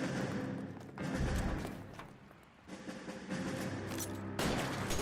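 Gunfire in the crime video game L.A. Noire: bursts of rapid shots and heavy booming thuds, loud and dense, with brief lulls between volleys.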